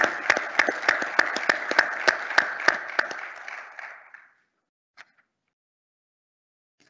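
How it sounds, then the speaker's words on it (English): Audience at a town hall clapping in recognition of honorees, brisk individual claps standing out over a dense burst that fades out after about four seconds into near silence, with a couple of faint sounds later. "So a round of applause for all of these folks."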